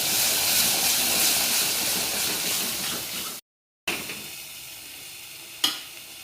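Red chilli powder, turmeric and salt hitting hot oil in a pan, a loud steady sizzle that breaks off briefly, then resumes softer with a sharp hiss spike near the end.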